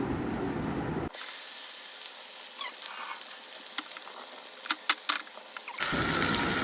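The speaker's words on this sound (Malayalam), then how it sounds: "ഇനി നമുക്കിതിലേക്ക് നമ്മളെ ഫിഷിനെ ഒന്ന് ഫ്രൈ ചെയ്തെടുക്കാം" Fish frying Kerala style in hot coconut oil, a steady close sizzle and hiss with a few sharp crackling pops rising above it, starting abruptly and running for several seconds.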